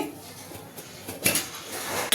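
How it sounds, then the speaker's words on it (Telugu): A pot clanks down onto a lit gas stove with a couple of brief metallic knocks, close by, amid quiet kitchen clatter. "ఇప్పుడు స్టవ్ వెలిగించి గిన్నె పెట్టుకొని"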